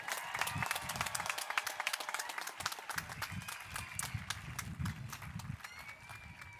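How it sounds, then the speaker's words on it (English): Audience applause for graduates at a high school graduation ceremony, dense and steady clapping from a large crowd throughout, fairly distant and fading slightly toward the end. "one more round of applause for our graduates"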